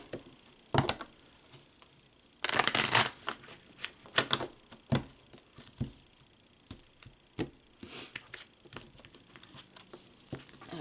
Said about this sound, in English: one more shuffle and then we'll cut the card and get started.